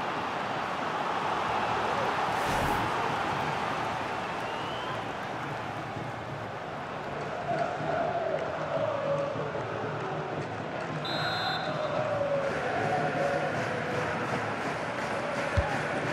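Stadium crowd in the FC 24 football game at a Barcelona versus Real Sociedad La Liga match before a corner kick, a broad continuous roar that swells and ebbs for about 16 seconds, with a whistle-like tone and brief clicks rising over it.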